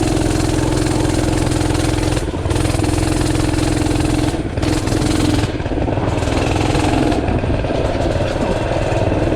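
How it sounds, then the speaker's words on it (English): A Tillotson 212R race engine idles roughly and loudly up close, its throttle blipped several times in brief surges, with a slipping clutch that needs the blips to disengage. "I gotta blip the throttle to get the clutch to disengage"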